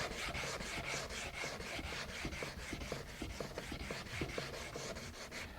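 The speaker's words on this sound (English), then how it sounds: "I can start on the sanding, make sure that I have all of my areas taken care of using this little block." Steady back-and-forth scraping of a small sanding block on a carved linen fold wood panel, a soft gritty rasp repeating in quick strokes, close and fairly quiet.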